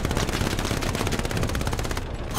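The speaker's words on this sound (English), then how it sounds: "Someone shooting." Rapid automatic gunfire in a multiplayer video game, a dense, loud, continuous burst of evenly spaced shots lasting about two seconds before cutting off.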